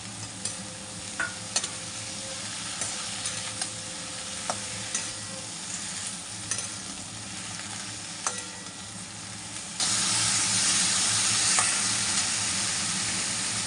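Okra sizzles steadily as it fries in a pan, with intermittent scraping stirs over a constant hiss; the frying grows louder and brighter near the end, and no one speaks.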